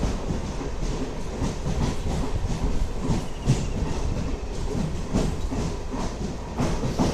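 A MEMU passenger train running slowly on the Renigunta to Nellore line, heard from on board as a loud, steady rumble with regular clickety-clack wheel beats over rail joints.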